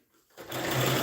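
A sewing machine that is due for oiling and has been acting up starts sewing a kid's shirt, going from near silence to a sudden, steady, fast-running whir that continues to the end.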